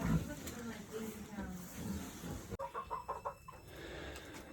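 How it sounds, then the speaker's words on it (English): Chickens in their winter henhouse on an upstate New York farm cluck in short bursts, near and moderately loud, while a person talks over the first half. "Here's the chickens in their winter home."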